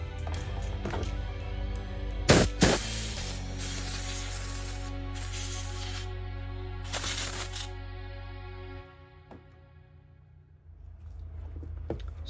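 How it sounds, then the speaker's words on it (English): Air compressor nozzle blowing clipped hair out of an opened Andis cordless Master clipper in several sharp, loud hissing blasts of uneven length, over a steady low motor hum that drops away near the end. "Let's blow out some of the hair with the air compressor."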